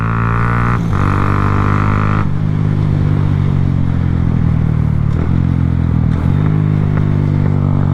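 A Honda Grom motorcycle ridden by a kid, its small engine humming steadily at close range with a brief higher rev early on and gear-shift dips, running continuously throughout.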